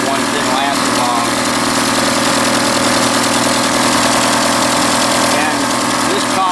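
A 1982 third-generation Chevrolet Camaro, fitted with a fuel cell and running for the first time in 20 years, idles with a loud, steady, rough engine rumble throughout.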